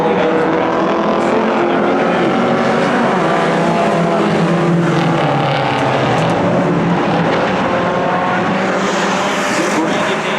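Hornet class race cars running laps in a heat race on an oval track, a steady dense roar of engines throughout, loud and continuous with no gaps, with a faint trace of commentary underneath.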